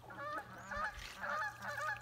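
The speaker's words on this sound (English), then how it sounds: "with the accompaniment of Canadian geese" Canada geese honk close by near a canoe on the water, several loud nasal calls overlapping in quick repeated bursts.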